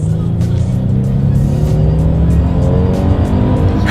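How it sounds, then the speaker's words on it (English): A 2020 Kia Telluride SUV accelerates hard in sport mode: a loud, steady engine drone whose pitch climbs continuously as revs build, with no voices over it. "I'm going to put this in sport mode here, and I think we are going to do a little acceleration here"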